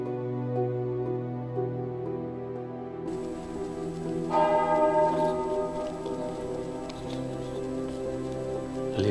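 A church bell rings on the Via Podiensis pilgrimage route to Compostela. Its resonant tolls sustain and overlap, joined partway through by a brighter second bell, with light pattering underneath and no talking.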